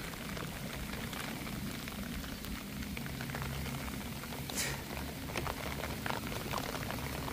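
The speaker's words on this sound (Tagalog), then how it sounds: "umuulan eh" Rain falls steadily outdoors during a fishing outing, a constant hiss of drops pattering on surfaces, fairly quiet and unbroken, with no talking.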